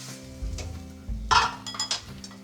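A cooked egg-white omelette is slid from a pan onto a plate, giving a few close clinks and scrapes of cookware, with one brighter clatter midway.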